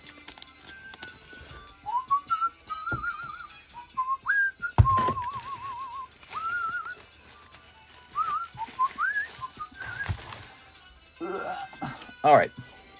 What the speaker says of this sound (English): I used to practice my whistling on this song because it's tricky to whistle.